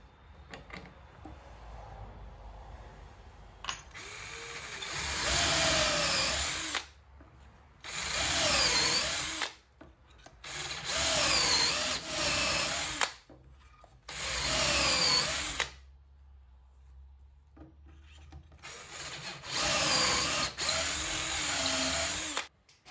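A power drill whirs in five or six bursts of a few seconds each, boring dowel holes into old timber with short pauses between, close and loud.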